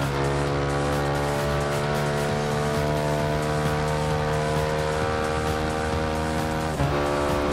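A Ducati Scrambler engine in the Ride 2 racing game at the Monza circuit holds a steady, loud, sustained tone with layered harmonics and one brief shift near the end, with no talk.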